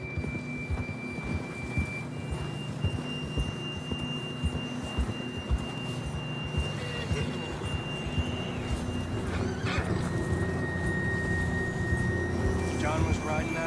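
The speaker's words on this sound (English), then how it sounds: "John was riding that horse when we left Blackwater." A horse whinnies and hooves clip-clop in a Western video game set near Blackwater, with steady game ambience and tonal chirps running throughout and a sharper neigh late on.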